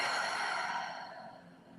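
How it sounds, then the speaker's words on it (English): A single deep breath drawn in and let out slowly, close and soft, fading gradually toward the end, with no one talking. "Take another deep breath in and breathe out"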